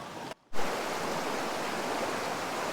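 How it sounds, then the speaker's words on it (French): Rushing water of the Lure brook, a tributary of the Weiss, pours in a steady, dense wash close by, after a brief silent gap near the start. "Le ruisseau de Lure, un des affluents de la Weiss."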